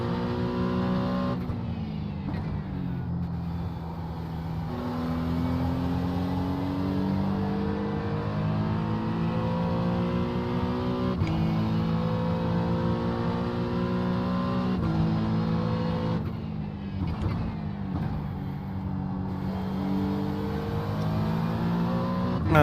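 LMP2 and GT3 race cars at Watkins Glen in iRacing roar continuously, engines revving and shifting through gears in loud, close sweeps, with no talking.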